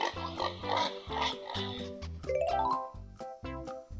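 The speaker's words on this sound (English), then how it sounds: "This is a pig." Pig oinking on a farm, a series of loud, close grunts in short rhythmic bursts with a bright jingling, tinkling tone layered in the background.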